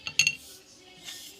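A spoon clinks against a bowl while stirring gram flour with turmeric for a homemade skin care paste, a few quick metallic taps close up followed by a softer scrape.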